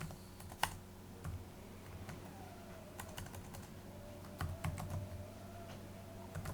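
Keys on a computer keyboard are typed in short irregular bursts of crisp clicks, close but quiet, over a faint low hum, with no talking.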